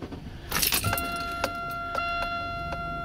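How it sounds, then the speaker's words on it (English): A 2001 Buick Century is started, with keys jangling in the ignition, a brief burst of the starter and engine catching, then a steady idle under repeated chime-like warning tones, heard from inside the car. "This is what it looks like when the car turns on."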